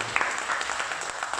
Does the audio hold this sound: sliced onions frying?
no